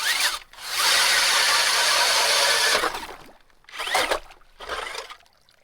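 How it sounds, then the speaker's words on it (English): A DeWalt 60-volt cordless drill bores through ice for fishing, a loud sustained whirring grind for about two seconds, followed by two shorter bursts as the bit is worked in the hole. "That DeWalt 60-volt drill made easy work of that hole."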